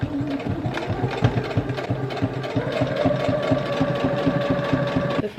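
A sewing machine stitches fabric for a bow, its rapid mechanical needle clatter running continuously and close, with a steady rhythmic chatter that shifts pitch slightly partway through and stops near the end.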